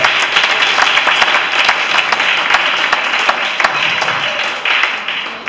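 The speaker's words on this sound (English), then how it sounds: "We ought to give them another round of applause." Guests at a church reception honoring a long-married couple give a round of applause, a dense, continuous wash of many hands clapping at once, loud and sustained throughout.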